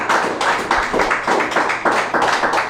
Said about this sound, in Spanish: Dele un buen aplauso a Jesús